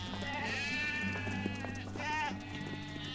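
Sheep bleat in a flock, several wavering cries rising and falling over a steady low background, fairly close with no talking.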